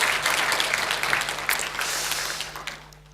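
Applause from a congregation at a Korean church worship service, steady clapping that fills the clip at moderate loudness and tapers off toward the end.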